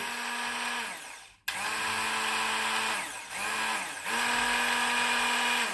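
A Silvercrest SSM 350 A1 hand blender chops potato and carrot, its motor whirring loudly and close in several runs with short drops in pitch and brief pauses between them, with no talking.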